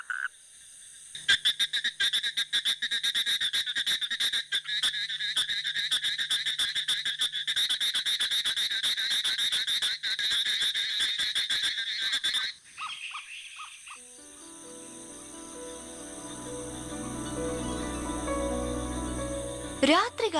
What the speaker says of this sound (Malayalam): സൂര്യൻ അസ്തമിച്ചു കഴിഞ്ഞാൽ ഞങ്ങൾ ഇവിടെ ഉണ്ടേ എന്ന് കരഞ്ഞു തുടങ്ങും കുളത്തിലെ തവളകൾ